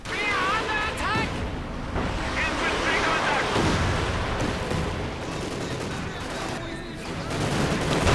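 Katyusha rocket artillery firing in the real-time strategy game Company of Heroes 2, a dense rolling barrage of blasts and whooshing launches over continuous battle noise, with a voice talking throughout.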